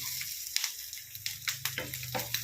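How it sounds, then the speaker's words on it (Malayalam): Grated coconut roasts in a pan with a soft, dry sizzle, broken by several quick scraping stirs. "തേങ്ങ വറുത്തെടുക്കുക"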